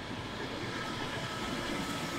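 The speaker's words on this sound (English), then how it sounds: "When these were first installed, that's the noise that was coming out." Steady, loud broadband whirring and hissing from aquarium equipment in a fish store under construction, running continuously with no voices.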